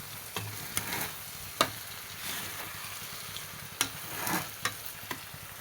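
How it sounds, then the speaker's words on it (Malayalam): Fried fish being stirred into masala in a pan for fish biryani made with ration rice, a soft constant sizzle broken by scattered scrapes and knocks of a spoon, close with no talk. "ഇതെല്ലാം കൂടി ഒന്ന് നന്നായിട്ട് മിക്സ് ചെയ്ത് കൊടുക്കാം"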